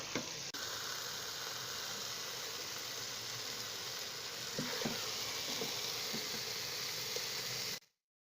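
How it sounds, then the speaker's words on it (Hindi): Carrot halwa roasting in a pan gives a steady, fairly quiet sizzle and frying hiss, with a few soft stirring scrapes partway through, running alone until it stops abruptly near the end. "गाजर के हलवे को भूनते हुए 5 मिनट हो चुके हैं"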